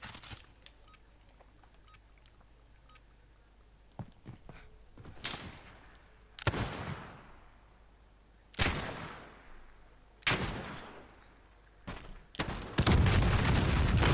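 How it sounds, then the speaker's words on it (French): Shotgun blasts fired at close range in the shooter game Modern Warfare: five sharp, loud booms spaced a couple of seconds apart, each trailing off quickly, with a burst of broader noise at the very end. "Je tire à bon portant en pompe."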